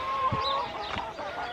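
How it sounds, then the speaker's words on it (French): Farmyard chickens clucking close by in short bursts, a couple of louder clucks standing out over a busy background of hen chatter. "Bonjour les poules."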